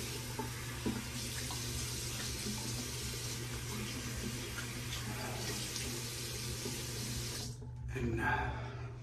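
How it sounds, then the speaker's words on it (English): Running tap water pours steadily into a sink while razors and a face are rinsed, a continuous close hiss and splash that cuts off near the end, followed by brief dripping and handling sounds. "So let's rinse these off. Rinse off the face a bit."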